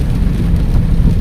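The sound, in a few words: rain falling in the city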